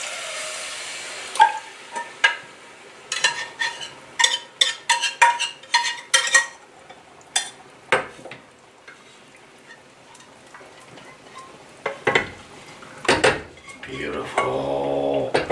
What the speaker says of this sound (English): Whisk until everything combined, incorporate together.